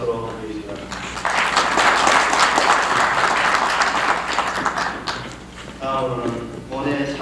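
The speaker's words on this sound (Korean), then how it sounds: "박수로 드리겠습니다." An audience at an anniversary ceremony of a Korean medicine association breaks into sustained loud applause lasting several seconds, which then fades as a voice speaks over the hall.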